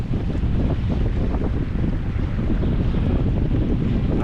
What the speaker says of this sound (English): Nice breeze coming in off the water.